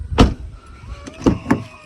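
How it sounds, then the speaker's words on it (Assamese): Power windows on a 2014 petrol Maruti Suzuki Swift Dzire, a few short motor whirs and thumps heard close up at separate moments, with no talk. "চাৰিওফালে পাৱাৰ উইণ্ডো লাগি আছে"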